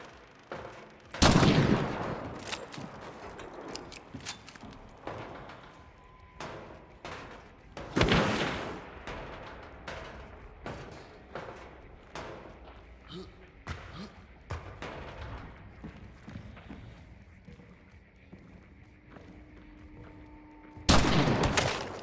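Gunfire in the game Hunt: Showdown comes as several loud, sharp shots spread far apart, the heaviest near the start, middle and end, with quieter clatter between and voices talking over it.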